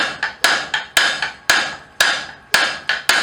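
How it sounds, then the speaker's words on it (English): A blacksmith strikes hot steel stock with a 2 1/4 pound hammer, giving loud, ringing metallic blows in an uneven rhythm, about ten strikes, each with a short decaying ring, close and alone. "We're going to use our 2 1/4 pound hammer."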